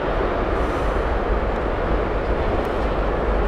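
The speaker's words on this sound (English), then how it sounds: "At 787 from British Airways being towed over to T5" A British Airways Boeing 787 under tow to Terminal 5 at Heathrow Airport, heard as a dense, constant low rumble and whoosh of heavy machinery at steady loudness, with no talking.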